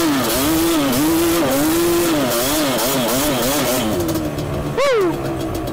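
A Yamaha Banshee ATV's two-stroke engine runs loud and near in first gear, its pitch rising and falling in repeated revs before a final sharp rev near the end.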